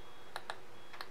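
A few quick, light clicks close by, a pair followed by a single one, in a quiet room during computer work with a mouse.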